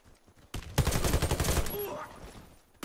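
Rapid gunfire in a bomb-mission shooter video game: a loud, close burst of quick crackling shots lasting about a second, then fading into a softer echoing tail.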